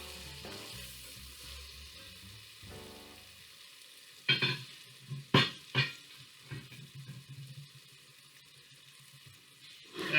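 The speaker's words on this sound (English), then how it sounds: "We're going to give them a stir." Onions that have cooked down for about 45 minutes and are starting to caramelize for vegetarian French onion soup are stirred in the pot: a quiet sizzle broken by a cluster of sharp utensil scrapes and knocks.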